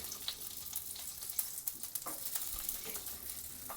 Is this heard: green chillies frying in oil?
yes